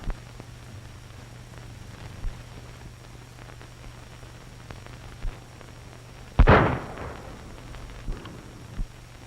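A single loud, sharp gunshot rings out in a Western film shootout, with a few fainter pops and thumps scattered over a quiet background.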